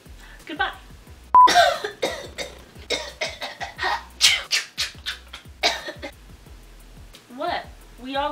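A person coughs repeatedly at close range, a series of harsh bursts with throat clearing between them, mixed with some voiced sounds.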